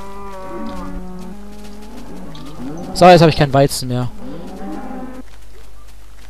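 Cattle in Minecraft moo loudly in a cluster of lowing calls at close range, while someone talks over and around them.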